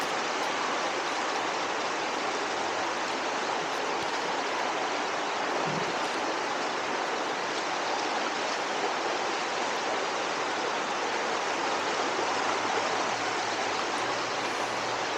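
The waterfall at Kanarra Falls in Zion National Park, a steady, dense roar of rushing water that stays loud and unbroken throughout, heard close with no voices.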